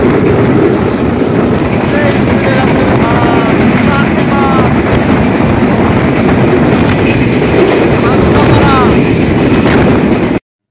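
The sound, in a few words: Rupsha Express intercity train running at speed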